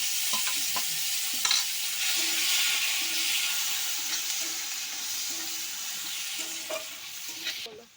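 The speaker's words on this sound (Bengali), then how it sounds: "এবার আমি দিয়ে দেবো পেঁয়াজ কাটাটা, পেঁয়াজ কুচানোটা দিয়ে দেবো প্রথমে" Chopped onion sizzling and frying in a pan with whole garam masala, green chilli paste and other spices for a prawn malai curry, a steady close hiss with light stirring scrapes throughout.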